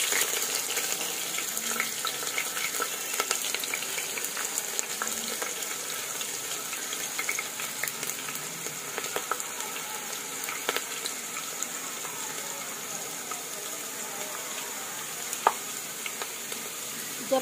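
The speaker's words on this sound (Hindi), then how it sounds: "अब मैं इसको डाल के अच्छे से भूनूंगी, आप देखो जब तक कि इसका कलर ना बदल जाए।" Roughly chopped onions fry in refined oil in a pan, giving a steady, soft, close sizzle with occasional pops; no one speaks.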